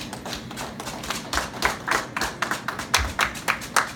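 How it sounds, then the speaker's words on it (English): Church congregation clapping during a Sunday service, a run of rhythmic, fairly even handclaps that build slightly in strength, close and clear with little talk. "Let's clap for Jesus."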